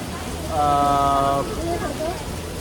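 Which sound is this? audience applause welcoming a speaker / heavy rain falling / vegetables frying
heavy rain falling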